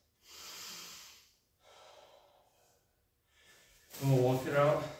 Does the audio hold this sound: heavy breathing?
yes